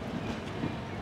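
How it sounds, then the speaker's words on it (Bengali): The 12311 Netaji Express passenger train runs on the rails, heard from on board as a steady loud low rumble with hiss, brief and continuous, with no talk. "বেশ ভালোই চলছে ট্রেনটা"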